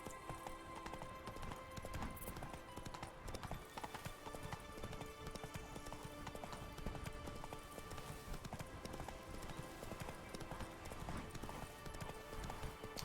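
Roach the horse galloping in the video game Witcher 3, a steady rapid clip-clop of hooves held at an even level for the whole stretch with game ambience underneath.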